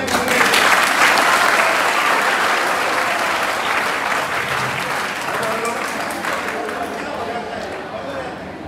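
A classroom of students claps loudly and continuously, strongest at the start and fading gradually over about nine seconds, with some voices under the clapping.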